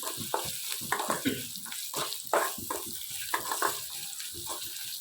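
Curry leaves fried and stirred in a pan, an irregular crackling spatter with watery hiss and scraping bursts, close and fairly quiet, no talking.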